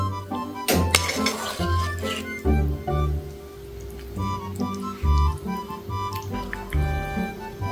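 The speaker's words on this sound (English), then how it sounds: "get a netted ladle or a spoon with holes. Just scoop it and place it on top." Metal ladle clinking against a pot while beef is scooped from broth onto a bowl of soba, a series of close, bright clinks and taps with soft liquid sounds and no talking.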